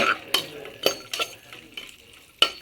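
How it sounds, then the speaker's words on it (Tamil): Cashews and raisins roast in ghee in a pan, with sharp spoon-on-pan scrapes and clinks in an irregular series over a soft background sizzle, close up and without talk. "முந்திரி திராட்சையை முதல்ல வந்து நெல்லில் வறுத்துக்கிறோம் வறுத்து எடுத்துக்கணும் பொன்னிறமாக வறுத்துக்கலாம்"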